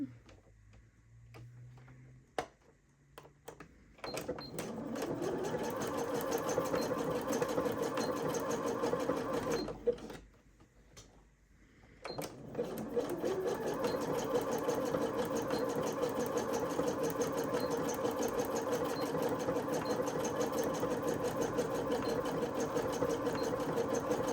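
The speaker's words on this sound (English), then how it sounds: "I'm basically going to zigzag back and forth until I'm like happy with that." A sewing machine runs up close as it zigzag-stitches a scrunchie. A few clicks and handling sounds open it, then the steady rhythmic whirr and ticking settle in, stop briefly near the middle and restart for a long run.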